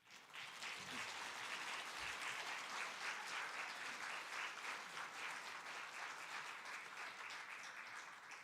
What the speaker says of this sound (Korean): 우리 송경호 장로님 나오실 때 큰 박수로 한번 축복해 주시기를 바랍니다